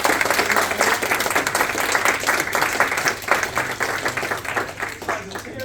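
A live audience in a lounge venue claps steadily throughout, a dense sustained round of applause at moderate loudness with a faint low hum underneath and no clear speech.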